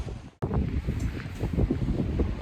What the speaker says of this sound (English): Alright guys, it's windy again.